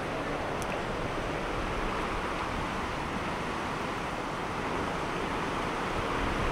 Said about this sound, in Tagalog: So ang lakas talaga ng hangin.